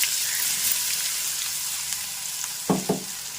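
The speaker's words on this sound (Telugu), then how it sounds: "ఇగోండి ఇప్పుడు పచ్చడి వేసేస్తున్నా" Hot tempering oil sizzles steadily as mango and grated coconut chutney is added, with a couple of louder spattering bursts and stirring near the end.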